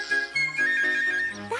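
Someone whistles a tune, a clear sustained melody of held notes and short slides, close and fairly loud over faint background music with no talking.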